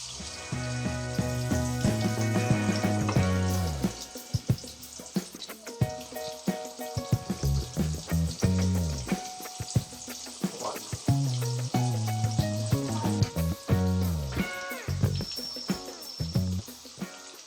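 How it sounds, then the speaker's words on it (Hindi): Egg-and-masala coated fish fried in oil over a medium flame: a steady, dense sizzle with crackling pops throughout, close and fairly loud, with no voices. "इसको दरमियानी आंच पे हम फ्राई करेंगे"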